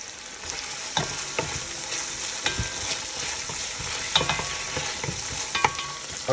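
Four cloves of garlic sauté in a hot pan for short ribs, giving a steady close sizzle broken by sharp scrapes and clinks as the garlic is stirred.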